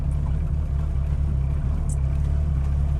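A Honda Civic with an H22A engine and a new Vibrant exhaust runs with a deep, steady low rumble close by, even and continuous throughout, with no talk over it.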